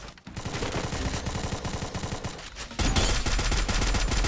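Rapid automatic gunfire in the battle-royale shooter Free Fire crackles in dense, continuous bursts, loud and close, growing heavier and fuller in the last second and a half.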